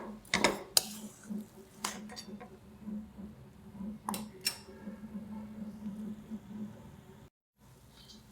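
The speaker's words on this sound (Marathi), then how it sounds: "पाच ते दहा मिनिट असं साखर टाकल्यानंतर हलवत राहायचं" Moong dal halwa being stirred in a pan after sugar is added, with repeated spoon-on-pan clinks and scrapes at an uneven rhythm over a low background hum, close and moderately quiet, ending in a short silence.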